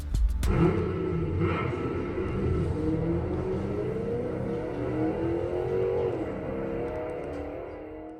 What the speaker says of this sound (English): after that very exciting elevator ride that sounded like a Maserati Gran Turismo